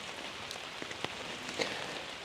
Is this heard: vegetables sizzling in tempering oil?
no